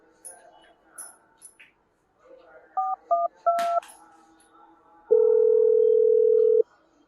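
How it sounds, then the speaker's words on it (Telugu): A phone keypad beeps out a few short tones in quick succession, then a longer steady tone sounds for over a second. Faint voices and small background noises sit in between. "సరే మా అక్కకు ఫోన్ చేసి చూస్తా."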